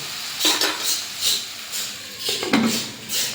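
A metal lid is set onto a cooking pot of raw plantain curry, making a few close clinks and scraping knocks spaced across the moment, with quiet kitchen stillness between them and no speech.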